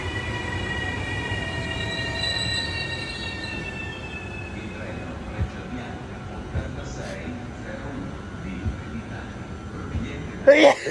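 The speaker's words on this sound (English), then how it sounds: "Italian train." An Italian train rolls nearby at Pisa station with high whining tones fading out, low rumbling, and a sharp brake squeal at the end; voices speak faintly.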